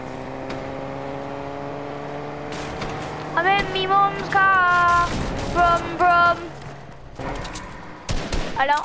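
Gunfire, likely shotgun blasts, sounds in a Fortnite match as sharp broadband bursts over steady background game music, with several shots clustered in the middle and end.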